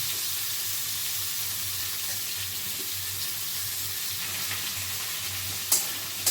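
Potato and pointed gourd fry in a pan with a steady, close hiss that holds throughout, plus a sharp clink near the end.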